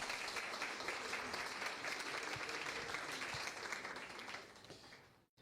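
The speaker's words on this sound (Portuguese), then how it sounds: "Salve de palmas." Applause fills a round-table session at a health conference, steady and fairly faint as if from across the hall, lasting about five seconds before fading out.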